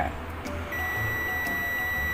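A steady electronic beep from a clamp multimeter continuity test sounds continuously after a brief pause, thin and high, over a faint background hiss.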